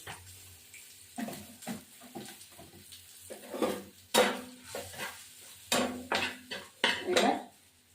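Chicken biryani is stirred in a metal pot with water added, a ladle scraping and clinking against the sides in uneven bursts, close and fairly quiet.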